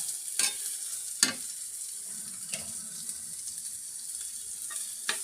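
Carrots and cabbage stir-fry in a pan, a quiet continuous sizzle broken by several sharp scrapes and clanks of a utensil against the pan, no talking.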